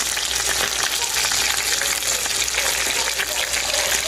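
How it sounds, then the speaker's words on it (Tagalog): Food fries in a pan in a home kitchen, a dense, continuous crackling sizzle heard up close and loud throughout, with no break in the oil's spattering. "Ito nga po pala ang piniprito ng kapatid ko na nakita ko nga po sa may kusina"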